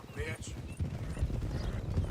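Hoofbeats of a black Missouri Foxtrotter horse with a white face in Red Dead Redemption, a steady clip-clop rhythm close by, heard under a continuous talking voice with a brief whinny-like sound near the start.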